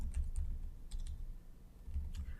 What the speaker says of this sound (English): Now I'm just typing in the commands to change the color scheme of this audio file.